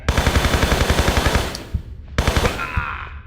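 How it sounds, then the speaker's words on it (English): Rapid automatic gunfire from a turret in Tomb Raider 3's Area 51 level rattles in a fast, loud burst, breaks off briefly with a single shot, then another burst follows. "Don't shoot the turret, because the turret will shoot you back."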